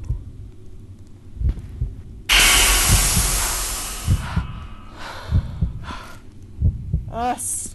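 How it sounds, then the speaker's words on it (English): Steam hisses hard in the horror video game Dungeon Nightmares 2, a loud sudden burst that slowly fades over several seconds, with thumping footsteps and breathing around it. "Steam."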